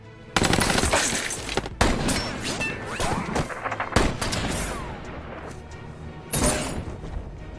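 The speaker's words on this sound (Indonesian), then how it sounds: "Martin melepaskan beberapa tembakan" Film-scene gunfire rattles in rapid bursts of loud automatic shots, with sharp cracks and crashes punctuating the sustained barrage and no talk.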